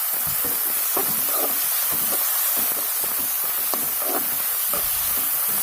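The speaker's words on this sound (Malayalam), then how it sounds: "ഇത് നന്നായി വഴറ്റാം" Chopped tomatoes sauté in a hot pan with a steady, close sizzling hiss, broken by soft irregular clicks of stirring.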